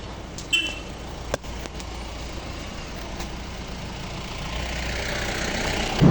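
A motorbike engine runs at a steady low drone while setting off on a road ride between Durgapur and Rajbandh, a few sharp knocks early on and the rumble swelling slightly toward the end.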